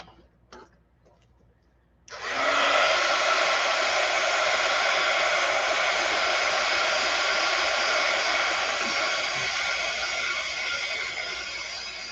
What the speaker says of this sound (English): let me use the heat gun for just a second